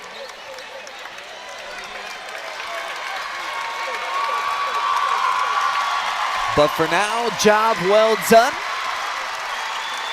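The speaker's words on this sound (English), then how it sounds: "the Titans up on their feet, cheering on their team, who just secured a 57-43 victory" A high school boys basketball crowd at a regional championship, with Ottawa-Glandorf fans cheering and applauding a 57-43 win: a sustained roar of cheers and clapping under a commentator's voice throughout.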